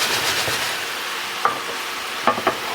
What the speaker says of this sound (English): a little white wine. Deglaze that pan.